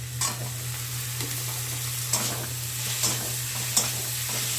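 Chopped tomatoes sizzle in a pan while being sautéed and stirred, with a few distinct scraping strokes roughly a second apart over a steady low hum and a soft background sizzle. Nobody speaks.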